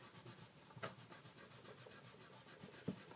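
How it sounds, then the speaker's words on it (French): An eraser rubs out pencil lines on paper in quick, rhythmic back-and-forth strokes, a soft, close, papery scrubbing with no talking. "Donc vous allez gommer les traits que vous avez fait au début"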